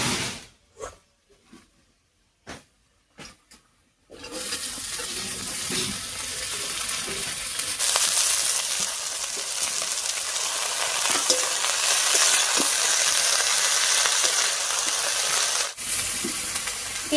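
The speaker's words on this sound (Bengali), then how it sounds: "পেঁয়াজ আর লঙ্কার উপরে শাকটা দিয়ে খুব ভালো করে মিশিয়ে নিলাম" Leafy greens go onto frying onion and green chilli: a few soft knocks and handling sounds, then a continuous loud sizzle with occasional stirring scrapes running to the end.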